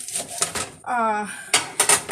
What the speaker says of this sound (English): all you're gonna do is just give it a chop